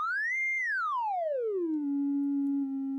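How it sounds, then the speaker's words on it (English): A pure sine tone from a modular synthesizer oscillator sweeps up in pitch, then glides smoothly down and settles on a steady low note, clean and continuous with no other sounds. "the oscillator just makes this is a sine wave, your standard, what you think of when you think of a waveform"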